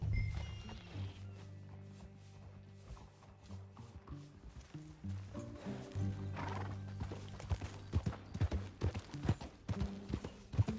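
A horse in Red Dead Redemption 2 whinnies clearly, then its hooves clip-clop in a steady walking rhythm that grows louder and closer toward the end, with faint mechanical creaks alongside.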